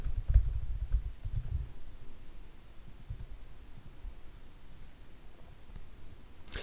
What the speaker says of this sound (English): you would just want to type in the company name and the zip code or the city